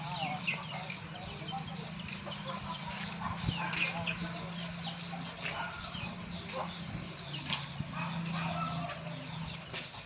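Chickens cluck and chatter softly at a poultry sale, with a faint low hum underneath and a person talking intermittently nearby.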